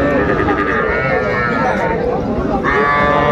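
At the Ambari cattle market in Dinajpur, a calf lets out drawn-out, harmonic moos amid a dense crowd murmur, with voices of people talking close by throughout.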